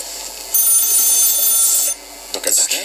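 A phone rings in the video game The Stanley Parable, a high electronic trill held for over a second, then a shorter burst, with faint clatter between.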